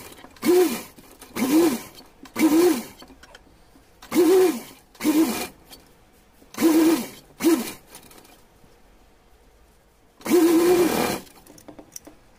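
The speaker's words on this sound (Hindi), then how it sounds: "उल्टा रखने के बाद ये सिलाई लगा करके" Short runs of a sewing machine stitch the lining of a small doll's dress for a Laddu Gopal figure, about eight close bursts of whirring stitches and then one longer run after a pause, with no talking.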